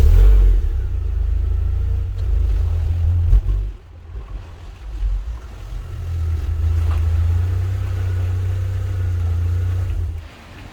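A Rover 416GTi engine idles and revs with a steady low rumble while the car is turned around, easing briefly midway and then building again, close and fairly loud.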